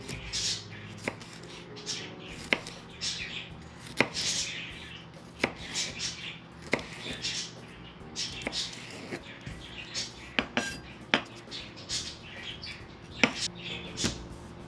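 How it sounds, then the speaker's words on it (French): A knife slicing red bell peppers very thinly on a board, with sharp, regular chops roughly every second, close and crisp against a quiet kitchen background. "On les tranche très très minces."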